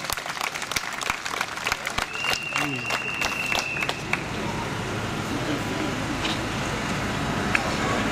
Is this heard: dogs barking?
no